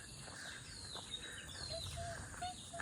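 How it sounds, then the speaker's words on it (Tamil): Faint, high bird chirps and short calls in a forest at Kepong Botanic Garden, Malaysia, scattered over a steady outdoor hum, with distant twittering throughout. "பேசாம இரு, குருவி சத்தம் கேக்குது."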